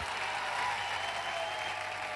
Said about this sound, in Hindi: मैं चाहूंगा कि परिमल सर के लिए एक जबरदस्त तालियां जरूर होनी चाहिए